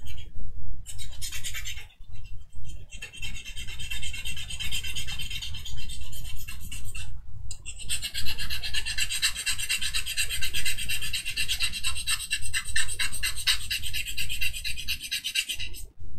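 A steady rasping scrape of a diamond file worked back and forth, close and rhythmic, with brief pauses between strokes.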